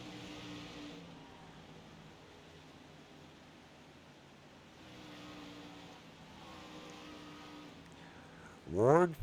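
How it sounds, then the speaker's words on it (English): Stock car racing engines drone steadily in the distance during a race, a low sustained roar that swells gently, with a closer car surging past loudly at the very end. "Christopher Wolford, number 51 car, currently showing in 4th place at lap number 88. Trying to get underneath the 21 at the moment."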